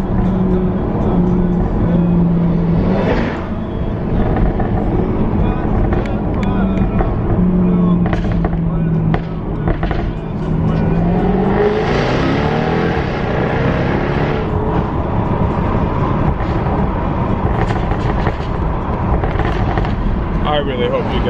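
Jaguar F-Type R engine revving hard on a drive, loud and close with crackling pops between throttle blips, mixed with wind noise; someone talks over parts of it.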